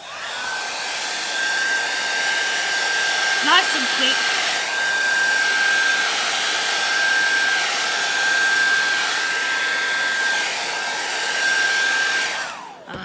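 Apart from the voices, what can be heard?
hair dryer blowing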